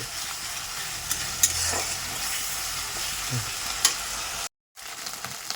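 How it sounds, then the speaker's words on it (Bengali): A spice paste with turmeric and a splash of water stirred in a frying pan, a soft steady sizzle with occasional scraping clicks of the spoon, briefly cut to silence near the end. "হলুদ দিয়ে একটু নাড়াচাড়া করে দেবো মশলাটা যাতে পুড়ে না যায়"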